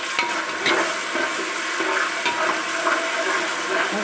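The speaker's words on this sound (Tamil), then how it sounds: "இஞ்சி பூண்டு பேஸ்ட் நான் போகிற வரைக்கும் வணக்கணும்" Onion with ginger garlic paste frying in a pan, a continuous close sizzle with scraping from stirring layered over it, and no talking.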